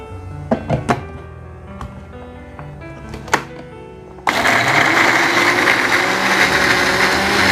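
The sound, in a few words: blender grinding shallots, garlic, candlenuts and turmeric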